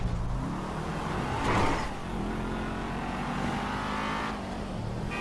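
A car in GTA V drives with a continuous engine drone, swelling as it accelerates around the middle and easing off later, fairly close with no talk.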